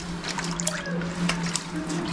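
Water sloshing and trickling in a bucket that holds a fair amount of grout at the bottom, heard during cleaning, a steady close wet splashing with small drips, no voices.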